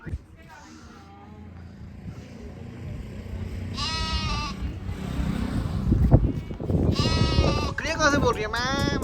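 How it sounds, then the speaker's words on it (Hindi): Goats bleating on a hillside road trip in Himachal Pradesh, several loud nearby bleats clustered toward the end, with people talking and passing vehicle noise around them. "बकरियाँ कहाँ से बोल रही है?"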